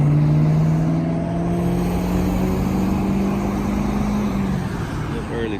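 A 2019 Chevrolet Camaro ZL1 rolls along a city street in Atlanta, its deep engine drone holding steady and close before it slowly fades as the car moves off.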